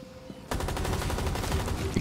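Explosions set off at nests in the video game Rainbow Six Extraction, a sudden loud blast that bursts in halfway and rumbles on with a crackling, gunfire-like roar.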